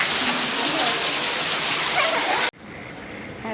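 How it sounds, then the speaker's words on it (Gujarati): Heavy rain falls in a dense, close, steady patter that stops abruptly partway through, leaving a much quieter background. "જો કેવો વરસાદ પડે"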